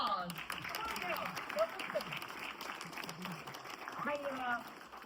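A theatre audience at a magic show applauds as a young volunteer comes up on stage. Steady, dense clapping fills the room throughout, mixed with shouts and cheering voices.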